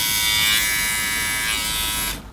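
Kemei KM 1690 electric hair trimmer buzzing steadily at close range with a bright, even hum, then cutting off abruptly near the end.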